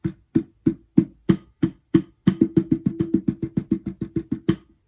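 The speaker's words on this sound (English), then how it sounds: "you're doing 16 smacks on the guitar right around the sound hole" An acoustic guitar body is smacked around the sound hole, first in a handful of evenly spaced, punchy thumps, then in a quick run of sixteen rapid, even hits, close and dry with no talking.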